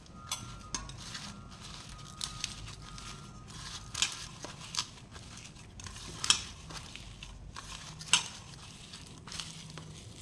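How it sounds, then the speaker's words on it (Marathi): A rajma cheese ball mixture being mixed in a bowl makes faint, soft squelching and scraping with occasional sharper clicks of a utensil against the bowl, fairly close and without talking. "आता हे सगळं आपण मिक्स करून घ्यायचं आहे।"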